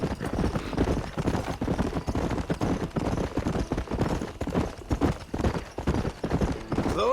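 Horse hooves trot in a steady clip-clop rhythm across open ground in the western video game Red Dead Redemption, loud and continuous throughout, with a brief snort near the end.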